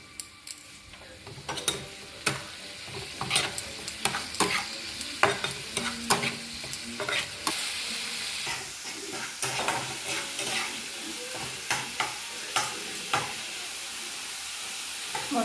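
Ginger spice paste fries in a pan while a utensil stirs it, giving repeated sharp scraping clicks over a constant sizzle, close and fairly loud with an uneven rhythm.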